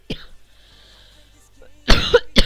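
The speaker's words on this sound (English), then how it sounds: "Oh, my eyes actually started to water after that cough." A person's harsh, loud cough bursts out close to the microphone near the end, followed by a short second cough, after a faint earlier throat sound and near silence.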